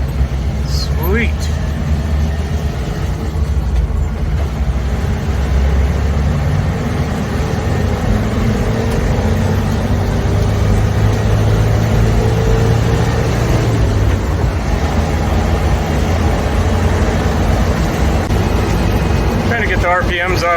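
A Suzuki Samurai engine, an SJ410/SJ413 Jimny type under restoration, runs steadily with a dense low rumble that rises as the revs climb, loud and continuous for about twenty seconds with a brief voice near the start.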